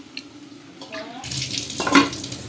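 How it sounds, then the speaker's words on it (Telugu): Water pours into a curry pot of mutton bone soup and chicken curry, a rushing splash that swells and grows louder over the last second or so, close by and heard alone. "అది ఇప్పుడు ఈ వాటర్ వేసేసాయి,"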